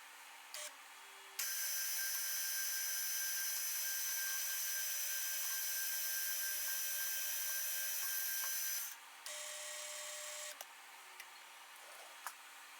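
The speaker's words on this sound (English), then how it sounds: "then just a matter of drilling that cross hole" A drill bit cuts a cross hole on a Cincinnati knee mill, a steady high whine under the running spindle hum that starts abruptly, holds for several seconds, then drops away to lighter intermittent cutting.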